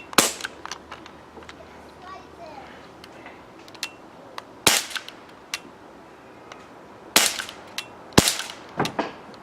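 A Crosman 1911 BB pistol firing several sharp, loud, close pops at irregular intervals, with quieter clicks and handling noises between shots and a faint voice briefly in the background.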